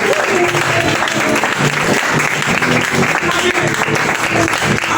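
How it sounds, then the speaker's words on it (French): A church congregation bursts into loud, sustained applause and cheering, a dense wall of clapping hands that keeps going without a break, with a few voices shouting through it. "Est-ce que tu peux acclamer puissamment?"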